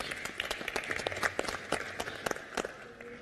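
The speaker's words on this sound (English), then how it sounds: "I would like to ask you all a big applause for our panelists who have been contributing to this session." Applause from a congress session audience, a scattered patter of hand claps from a modest crowd, moderately distant and fairly quiet, with uneven bursts throughout.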